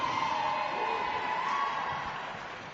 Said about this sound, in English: York fans in the crowd going wild.